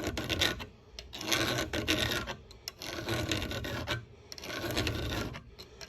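A hand file scraping along the cutting edge of heavy one-inch capacity wire cutters in long, steady strokes, each rasping pass rising and falling in a regular rhythm, close and alone.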